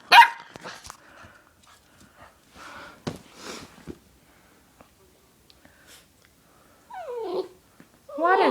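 A dog gives a few short close barks and yips at the start, then high whimpering whines near the end. A person speaks briefly between them.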